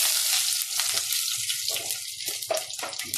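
Cumin seeds, sliced onion, garlic and curry leaves frying in hot oil for a fish curry tempering, giving a steady close sizzle with crackling bursts throughout.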